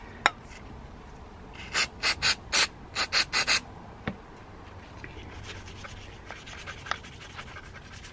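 Brushing and rubbing clean dirt from a Suzuki GSX-R 600 rear brake caliper piston: a quiet background with a quick burst of about eight short, sharp scrubbing strokes in rhythm, plus a few isolated clicks.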